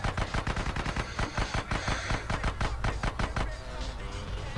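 Rapid automatic gunfire in GTA San Andreas, loud and continuous, with dense bursts of shots rattling for several seconds before easing slightly.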